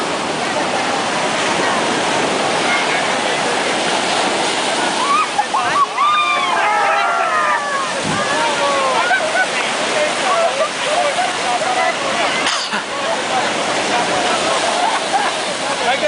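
Atlantic Ocean surf at Cascais roars loud and close in a constant wash of crashing water, with a brief voice rising over the noise midway.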